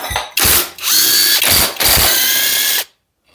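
A power tool spins in loud bursts with ratcheting pauses between them, taking off the power steering pump on a supercharged Audi 3.0T engine during teardown. Three long whirring runs are heard up close, and then the sound stops.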